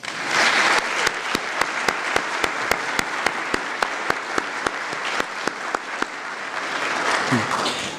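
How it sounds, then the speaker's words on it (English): Applause at a sheriff's office awards ceremony, a sustained round of crowd clapping with one person's sharp claps ringing out in a steady rhythm, fading slightly near the end. "How about one more round of applause?"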